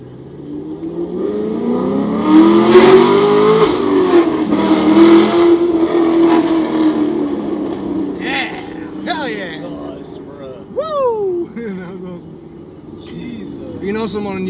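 A Chevrolet Camaro engine revs hard and accelerates down a city block, rising in pitch through the gears to around 5,000 RPM with an upshift, then falls away as someone talks over the tail end.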